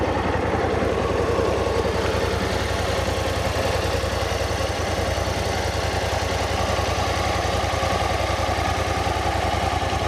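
BMW C600 Sport twin-cylinder scooter idling while stationary, a steady close low-pitched engine rumble with even pulsing throughout and no talk.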